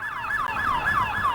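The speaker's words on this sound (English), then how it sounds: "I just heard a bunch of sirens and everything." A wailing emergency siren sweeps up and down in quick repeating cycles, loud and fairly close, with no talking.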